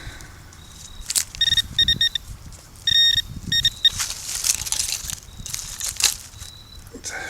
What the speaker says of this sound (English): I didn't get 3 steps and got a fairly decent beep